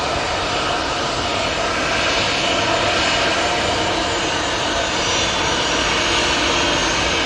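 A Ryanair jet airliner roars steadily at Manchester Airport, a loud, broad, unbroken engine rush that holds at full strength with no voices.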